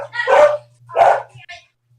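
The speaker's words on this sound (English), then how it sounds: "Dog." Two sharp barks from a dog ring out close and loud about half a second apart, followed by a fainter short yip, over a low steady hum.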